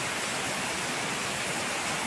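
Street floodwater pours in a continuous loud rush into a residential garage during a heavy Manaus rainstorm, cascading like a small waterfall with a steady, dense, unbroken roar and no voices.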